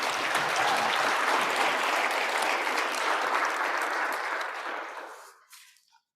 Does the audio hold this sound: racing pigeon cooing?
no